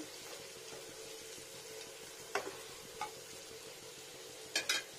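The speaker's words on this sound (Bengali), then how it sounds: "দেখুন কি সুন্দর পেঁয়াজটা ভাজা হয়ে গেল, টেম্পারেচারটা বাড়িয়ে দিয়ে এবার ফ্রাই হয়ে যায় সুন্দর" Onions frying in a pan for chicken kofta curry, a soft steady sizzle with a few sharp spoon scrapes and clicks against the pan.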